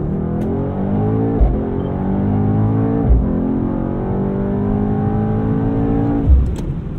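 A 630hp Mercedes-AMG GT63 accelerating hard from inside the cabin, the engine note climbing steadily through the gears with brief dips at each upshift, loud and continuous.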